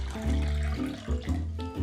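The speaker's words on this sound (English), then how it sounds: "We're putting cold water into our pot" Cold tap water runs into a cooking pot, a gurgling, splashing stream with a hollow resonant tone that rises and shifts as the pot fills, close and moderately loud.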